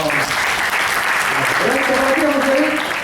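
Applause from an audience at a leadership training session fills the room steadily and fairly loud, with voices calling out and talking over the clapping.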